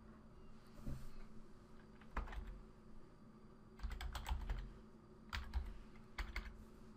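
Typing on a computer keyboard while entering a password, heard as several separate bursts of close, crisp keystrokes with short pauses between them and no talking.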